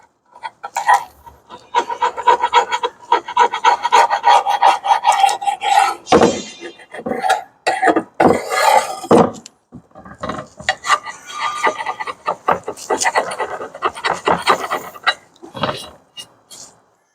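A scraper rasps over and over against an oil pan, stripping old gasket material in bursts of harsh metal-on-metal scraping with brief pauses between strokes.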